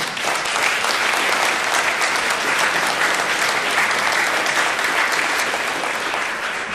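A large audience claps steadily in a dense, sustained round of applause, loud and even, with no break.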